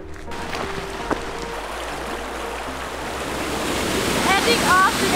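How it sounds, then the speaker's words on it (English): A small waterfall in the Utah desert near Moab, heard as a steady broadband rush of falling water that swells louder toward the end, with a few faint, brief voice-like calls over it. "We found our own freaking waterfall."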